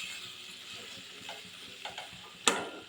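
Pot of avial, a Kannur-style Kerala vegetable curry, simmering on the stove, a soft bubbling sizzle with faint ticking clicks and a sharper clink near the end, close and quiet with no talk.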